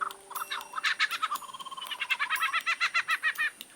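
A male mimic bird imitates a kookaburra's call: a run of rapid, rhythmic, laughing notes that grows fast and insistent, fairly close and clear against faint background bird sounds.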